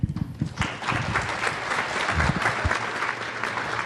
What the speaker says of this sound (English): Let's give them all a really big round of applause, please.